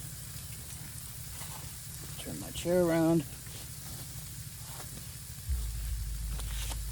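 Peppers fry in a little bacon grease at a camp stove beside a hot tent, giving a steady soft sizzle under a short spoken remark.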